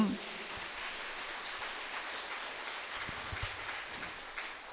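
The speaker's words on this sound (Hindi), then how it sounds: "एक बार फिर से अच्छा से ताली बजाइए।" A church congregation at a fasting retreat clapping their hands together, a soft, steady patter of many hands that sounds distant and muffled, like light rain.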